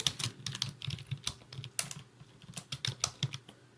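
Rapid typing on a computer keyboard, close and fairly loud, with irregular bursts of clicking key presses and no voices.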